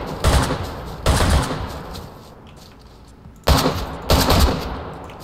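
Several loud, echoing gunshots in the survival game DayZ, fired in two pairs with a quiet gap between, each a sharp close crack with a reverberant tail.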